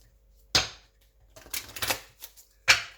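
Moonology oracle cards being handled and shuffled, with a sharp slap, a short flurry of riffling flicks, then another crisp snap, close and clear with no talking.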